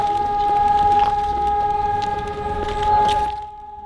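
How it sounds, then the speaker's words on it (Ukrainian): An air raid all-clear siren in Zakarpattia, Ukraine, holds one loud, steady tone without a break for over three seconds, then cuts off near the end. "Під звуки відбою повітряної тривоги на Закарпатті"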